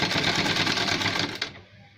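A sewing machine stitches a gents shirt in a fast, steady mechanical whir, then stops abruptly near the end, leaving a faint quiet tail.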